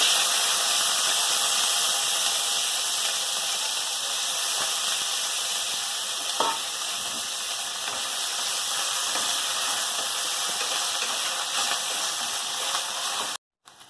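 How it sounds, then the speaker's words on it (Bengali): Flat beans frying in hot white oil in a kadai, giving a continuous even sizzling hiss throughout that stops abruptly at the end. "তেল গরম হয়ে গেছে, শিমটা দিয়ে দেবো।"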